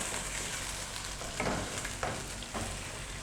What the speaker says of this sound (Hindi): पेस्ट डालने के बाद भी हम इसको 2 से 3 मिनट तक जो है तो सौते कर लेंगे।